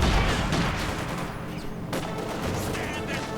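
A dense, continuous rattle of machine gun and rifle fire from a Company of Heroes 2 battle between Soviet Guards infantry and German Panzer Grenadiers, with light machine guns and anti-tank rifles, steady and loud with no distinct gaps.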